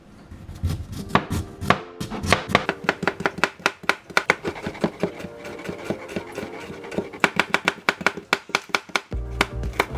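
Knife chopping radish on a cutting board, a rapid stream of close, sharp taps with an uneven rhythm, dense and continuous with brief pauses, loud and alone.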